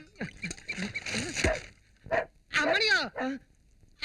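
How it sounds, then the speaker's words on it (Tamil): Dog barking in a Tamil film scene, a few short yips and whimpering barks in separate bursts, mixed with agitated human voices. "இந்த நாய் என்ன இப்படி சொல்றதே?"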